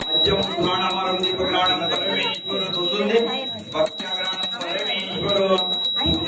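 A hand bell rings continuously in quick, bright strokes during a Hindu wedding worship ritual in Konkan while a voice chants Sanskrit over it, the ringing steady throughout.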